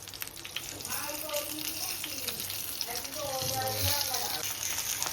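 Green chillies stuffed with a ground masala frying in a pan: a moderate, steady sizzle with faint crackle, heard under a person talking nearby.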